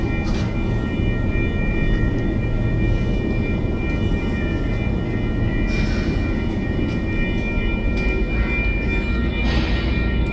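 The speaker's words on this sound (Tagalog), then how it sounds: "Tsaka yung tren, may dumaan sa tren, oh. Tunog na tren na yan." A train passes near a work site where pipe supports are being installed, a steady broad rumble lasting throughout with faint higher rail squeals, no talking.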